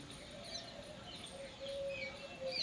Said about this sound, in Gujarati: આવો ઉઠી ગયા પક્ષીઓ એ બધા ચીચીન ચૂ ચૂ ચાલુ થઈ જાય